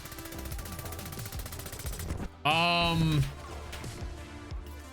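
An AS Val rifle fires in the Call of Duty Black Ops 6 shooter, with rapid bursts of gunfire mixed with other game sounds, heard near and fairly loud beneath a voice.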